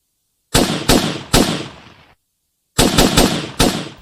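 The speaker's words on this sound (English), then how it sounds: "here's the prototype shooting in action" Prototype gun firing in a Lethal Company-style game mod, loud close shots in two bursts, three spaced blasts, then a pause, then four more in quicker succession, each with a short decaying tail.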